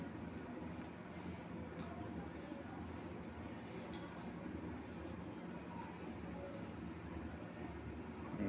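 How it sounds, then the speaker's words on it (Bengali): Trains pulling in at Cox's Bazar railway station: a steady rumble of railcars and wheels fills the scene at moderate distance, with a faint squeal of wheels and busy platform background throughout, and people talking under the noise. "বিভিন্ন লোকেশনের ট্রেন আসতেছে।"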